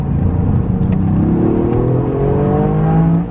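A Toyota GR Yaris accelerates hard from inside the cabin, its engine note climbing steadily through the revs with a rising harmonic whine. The sound is loud and continuous, and no one speaks.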